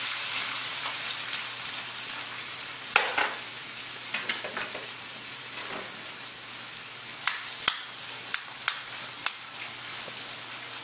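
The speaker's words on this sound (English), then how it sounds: "I'm gonna pour some oil in here. Okay, so this is all heated up. So first we're gonna put the onions." Onions fry in hot oil with a steady crackling sizzle close by, punctuated by several sharp spatters and utensil clicks, clustered toward the end.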